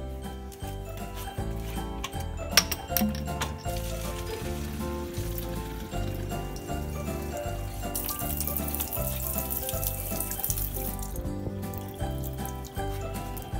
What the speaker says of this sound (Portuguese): Eu vou colocar um pouquinho de água.